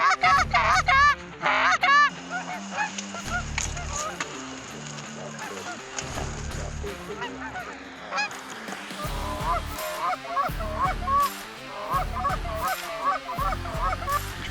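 Canada geese honk repeatedly over a disced-up field during a goose hunt, a loud chorus of overlapping calls, some close and some farther off, with brief breaks and a faint voice now and then.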